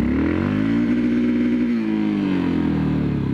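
Engine of a 2013 Yamaha MT03 motorcycle revving loudly and continuously close by, its pitch climbing, dipping and rising again through a short rev range, with no talk over it.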